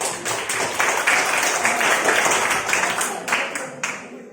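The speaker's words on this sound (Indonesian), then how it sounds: "beri tepuk tangan" Audience in a classroom discussion session clapping in applause, a dense, steady patter of many hands filling the room, with a few voices over it.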